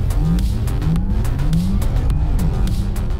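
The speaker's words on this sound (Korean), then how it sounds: "그래서 타이칸 GTS의 가속 성능을 맛보기 위해 제로백을 측정해봤는데요." A 2022 Porsche Taycan GTS electric sports car making a hard launch-control start, its electric motor whine rising steadily in pitch, loud and continuous, with road and tire noise throughout and no talking.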